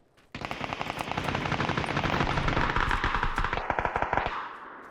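Sustained rapid automatic gunfire in the video game PUBG rattles for several seconds, dense and loud, with a burst of separate sharp shots near the end.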